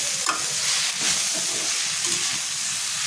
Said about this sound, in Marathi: छान मिक्स करून घ्यायचे मसाल्यांमध्ये